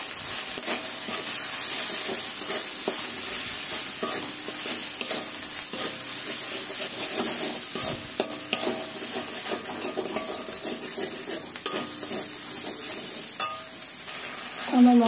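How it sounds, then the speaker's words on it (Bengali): Spices with salt and turmeric being fried and stirred in a pan for a fish curry, with a steady close sizzle and hiss and repeated scraping stirs throughout, and no talking. "লবণ, পরিমাণ মতো হলুদ দিয়ে ভালোভাবে কষিয়ে নেব।"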